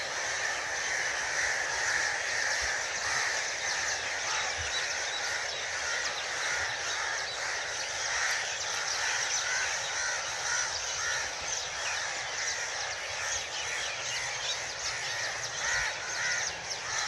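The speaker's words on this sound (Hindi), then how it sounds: "जंगल दरिया के साथ, परिंदों की आवाज़" Crows caw steadily among other bird calls in a forest by a river in the evening, a dense, continuous chorus that stays loud throughout with no talking.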